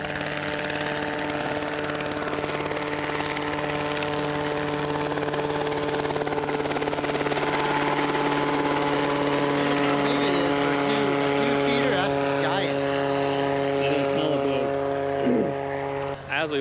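An Enstrom 280 helicopter flies nearby, its engine and rotor making a loud, continuous droning hum with steady tonal overtones that persists throughout.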